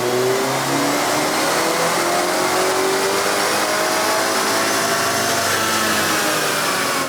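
A BMW 330i with a B48 engine, tuned on JB4 map 3 with 93 fuel, revs hard on a dyno, a loud continuous climbing engine roar with rising harmonics throughout, close and alone.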